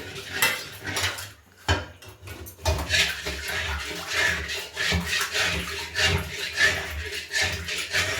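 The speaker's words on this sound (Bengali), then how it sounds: "এটা কাঁচা থাকবে না, তার উপরে জলের মধ্যে ফুটছে" Dal pitha dumplings boil in a pot of water, giving a steady, close bubbling and rumbling hiss that drops out briefly and then returns, with no talking.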